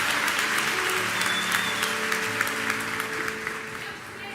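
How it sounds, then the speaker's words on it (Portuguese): A church congregation applauding during a sermon: dense, steady clapping from many hands filling the room, gradually thinning and fading toward the end. "Dá uma salva de palmas ao Senhor em nome de Jesus."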